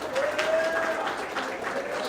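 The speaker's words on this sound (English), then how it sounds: "Give her a warm round of applause." A crowd gives a short, warm round of applause, a steady wash of clapping with a faint tonal voice or whistle threading through it.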